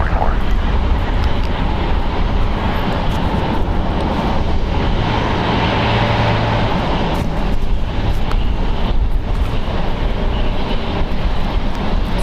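A Southwest airliner landing at LAX airport gives a loud, steady broadband roar of jet engine noise that holds for the whole stretch, with no break or clear rise and fall.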